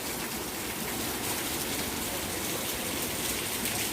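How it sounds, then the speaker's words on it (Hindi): Heavy rain pours down in a dense, continuous roar of drops striking surfaces, steady and loud with no pauses. "और ज़्यादा तेज़ हो गई बारिश, बहुत ही अच्छी लग रही है एकदम से।"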